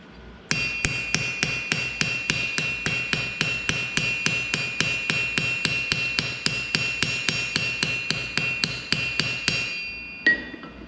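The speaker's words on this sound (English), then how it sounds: "Now I'm going to use our beat up hammer." A battered, beat-up hammer strikes metal to texture it, about thirty sharp, evenly spaced ringing blows in a fast steady rhythm, close and alone, ending with one final louder knock.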